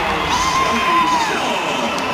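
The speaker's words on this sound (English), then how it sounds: "You can hear the reaction from the crowd." Basketball arena crowd at a WNBA All-Star game cheering and whooping in a sustained roar, with a commentator's voice over it.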